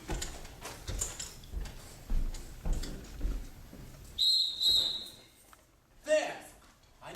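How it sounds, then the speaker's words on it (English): A sporting whistle blows twice in quick succession, sharp and shrill, cutting through a busy street scene on a rainy night where people talk over crowd noise. "That ain't no police whistle, that's a sporting whistle"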